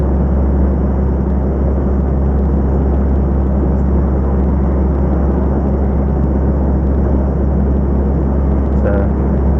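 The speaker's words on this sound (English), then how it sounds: "just under 1400 RPM, full throttle, 22 miles an hour" A 410 hp lorry loaded to 42,590 kg climbs Haldon hill at full throttle, just under 1400 RPM at 22 mph. Inside the cab, a heavy, constant engine drone holds steady and loud throughout.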